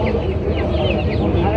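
A rooster clucks close by at Kaptan Bazar bird market in Dhaka, its repeated throaty calls running under the voices of people talking nearby.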